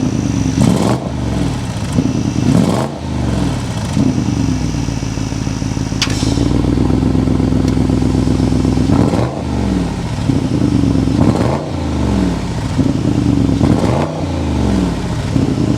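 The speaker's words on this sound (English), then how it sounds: "We need to go inside, start it up, so you can hear that exhaust note." A 2024 Audi RS Q8 SUV engine fires up and its exhaust is revved repeatedly, loud and close, with sharp rising and falling blips between a steady throbbing idle and one held high rev.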